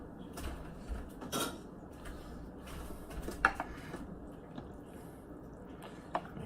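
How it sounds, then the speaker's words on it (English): Chili with mild-sauce beans being stirred in a pot, giving soft wet squishing with a few light clinks of utensil against metal, fairly quiet and close, without any talk. "Now, give it a little stir."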